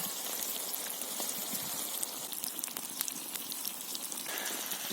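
Eggs and tomatoes with garlic sizzle in a frying pan outdoors during a February fishing trip on the Teteriv river, a continuous close crackling hiss with small spitting pops.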